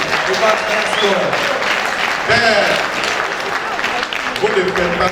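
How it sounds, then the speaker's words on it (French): An audience at an African awards ceremony breaks into loud, continuous applause that lasts throughout, with a voice speaking over the clapping. "Vous ne faites pas mal d'applaudir parce que Iron Bibi reçoit un deuxième prix."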